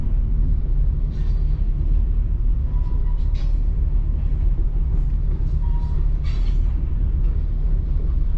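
CSX freight engine 329 rolls past a crossing in Arcade, Georgia, a steady low rumble of rail cars continuing throughout with a few faint higher squeals and clanks, heard close from a parked vehicle.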